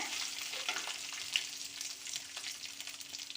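Garlic fries in oil in a pan for mango chutney, giving a steady close crackling sizzle with faint stirring, with no voices heard.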